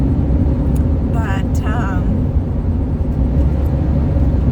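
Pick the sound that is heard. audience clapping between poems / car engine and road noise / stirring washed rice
car engine and road noise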